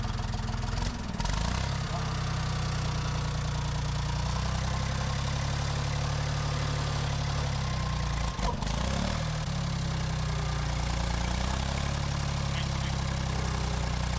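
An abandoned tractor's engine runs steadily with a loud, close, low rumbling idle that holds throughout, with a couple of brief dips in the drone.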